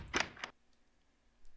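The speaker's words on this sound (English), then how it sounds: "The old door noise" An old wooden door in Minecraft Beta 1.7.3 swings with a quick pair of creaky knocks, two short close bursts followed by near silence and a faint click at the end.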